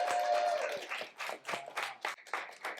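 Audience at a poetry slam in a public library claps in a short, uneven burst of hand claps that comes in bunches and fades, fairly quiet and close.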